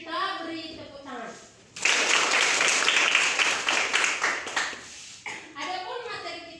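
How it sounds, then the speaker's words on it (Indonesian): Audience applause from a group listening to a talk on faith and hope, a dense burst of clapping that rises sharply and fades after about three seconds, with speech before and after it. "Kita beri tepuk tangan"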